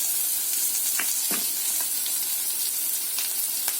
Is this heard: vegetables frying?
yes